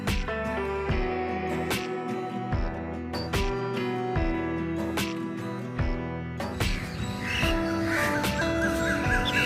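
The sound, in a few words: crows cawing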